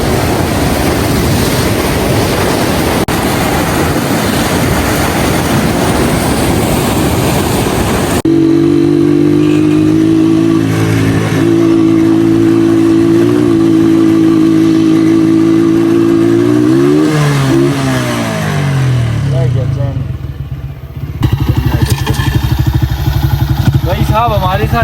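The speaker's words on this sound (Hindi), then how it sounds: "अब बाइक्स के ऊपर बैठते हैं और यहाँ से निकलते हैं।" Motorcycles on a mountain route in Leepa Valley near the Line of Control: after a stretch of loud wind-like rumble, a nearby engine idles and revs steadily, rising and falling as the bikes pull away.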